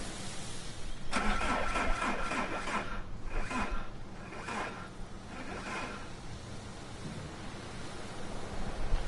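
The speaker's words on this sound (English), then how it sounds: "And the engine." A car engine in the video game Far From Noise cranks and turns over with a rough, rasping mechanical churn, starting abruptly and continuing steadily under a dense noisy background for several seconds, sounding strained and wrong.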